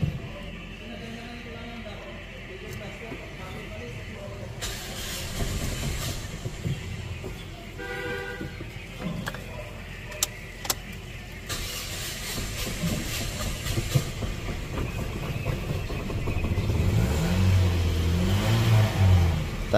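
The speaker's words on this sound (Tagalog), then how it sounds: "I-start na po natin itong Toyota Vios" Toyota Vios car engine cranking to life, then idling and revving with rising roar and hiss up close, scattered clicks and clatter around it.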